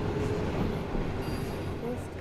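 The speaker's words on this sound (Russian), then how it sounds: "Тут поезд едет." A video game train rolls past on a railway crossing as a continuous dense rumble of wheels and cars, with faint squeal tones and a voice speaking over it.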